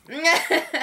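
A single sneeze during a live play of the board game Scoville, a short, sharp, voiced burst lasting under a second, close to the microphone and alone.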